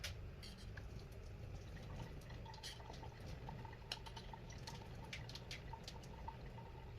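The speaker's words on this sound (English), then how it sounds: "Let's pour out the water." Cooking water being drained out of a pot of Samyang 2x Spicy Buldak instant noodles, a faint, steady trickle with scattered drips and splashes, close by and quiet, no talking.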